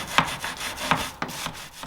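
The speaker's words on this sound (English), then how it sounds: "These brass brushes and some mineral spirits work well to gently remove the paint from these hard-to-reach areas." A brass brush scrubs with mineral spirits at old paint in the tight corners of a thrift-store 1960s mid-century wooden dresser, giving a few separate scratchy strokes close by with short gaps between them and no voices.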